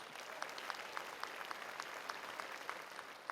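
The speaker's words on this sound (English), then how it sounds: "Your applause, please." Audience applause for a school district athletic Hall of Fame inductee, a steady wash of many hands clapping, somewhat distant and moderate in level, with a few sharper individual claps standing out.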